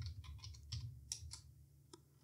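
Quiet clicking of keys on a computer keyboard as a short shortcut and a few letters are typed, light irregular taps close by over a low steady hum.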